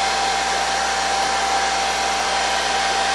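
A hair dryer runs continuously at close range, blowing steadily and loudly on a puppet's mouth plate while drying it.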